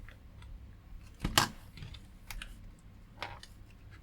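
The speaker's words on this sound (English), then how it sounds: "you can see it's fed the paper in, you probably heard it" A Canon imageFORMULA P-208II document scanner being repaired pulls a sheet of paper through with a few short, sharp mechanical whirs and clicks over a quiet background, with no speech.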